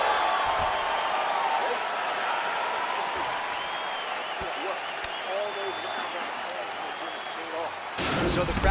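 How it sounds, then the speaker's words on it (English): A virtual arena crowd in EA Sports UFC 4 applauds and cheers after a hard-fought round, a dense sustained roar of clapping and voices under a commentator talking, swelling louder near the end. "So the crowd voicing its appreciation after that round."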